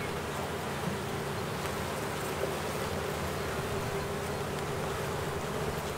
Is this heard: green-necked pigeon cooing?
no